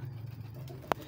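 Pigeons in a hobbyist's loft in Sialkot give a low, steady cooing drone close by, with a single sharp brief click or flutter near the end; no one talks.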